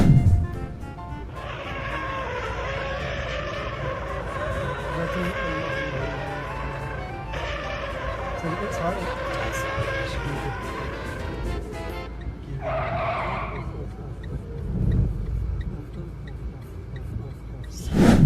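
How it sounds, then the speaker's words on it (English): Car losing control on a wet road, steady road and engine noise with tyre hiss and a brief squeal of skidding, under someone narrating throughout. "Here's another inexperienced driver losing control because of the wet roads."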